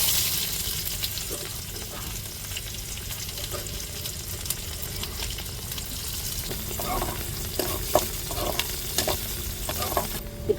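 Sliced onion sizzles in hot oil with fenugreek seeds in a pan for a fish curry, a dense continuous frying hiss with scattered stirring scrapes and clicks, no voices.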